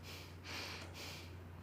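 Quick, shallow anxious breathing demonstrated by a person: two short, close-miked breaths, a sharp intake followed by a second airy rush, with a low steady hum underneath.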